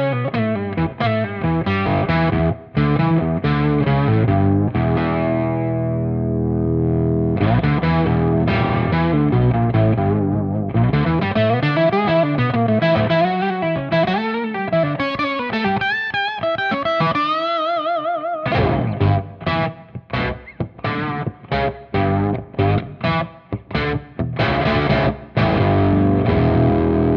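During a jam through a Flattley The Generator fuzz pedal, with its stabilize switch toggled on and off, guitar rings out loud and alone as a heavily fuzzed, synth-like tone, moving between sustained warbling bends and choppy staccato riffs.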